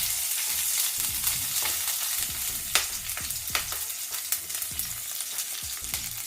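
Green chillies frying in hot oil in a pan for a drumstick masala curry, a steady close sizzle with repeated spatula scrapes and taps, no voices.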